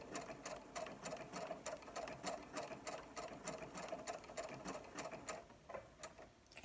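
A Brother SE400 sewing machine stitches a decorative pattern with the G overcasting foot, its needle ticking in a fast, even mechanical rhythm close by for several seconds, with a brief pause near the end.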